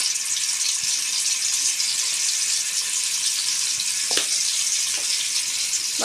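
Eggs fry in hot oil in a kadai, a steady bright sizzle running continuously throughout with a few faint pops and scrapes near the end, no voices.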